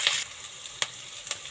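Green chilies and curry leaves sizzle in a pan for cabbage palya, with a soft frying hiss and a few sharp stirring scrapes, close and alone without speech.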